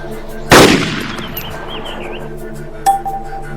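A single sharp sniper rifle shot rings out in ARMA 2, its loud crack decaying into a long echo, followed near the end by a quieter metallic clink.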